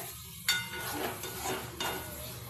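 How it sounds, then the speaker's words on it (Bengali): Masala for a pui shaak chhechra is stirred and fried in a pan, a steady close sizzle with soft scraping strokes and a couple of brief knocks of the spatula. "দেখুন ভালো করে আমি কষিয়ে নিচ্ছি।"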